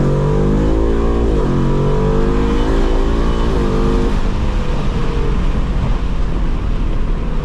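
A 2024 Ford Mustang GT fitted with K&N dual cold air intakes accelerates hard from inside the car. Its loud V8 roar climbs in pitch, drops at two gear shifts, then keeps building as a sustained, heavy rumble.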